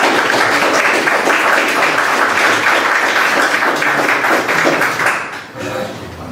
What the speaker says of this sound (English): if I could get a huge round of applause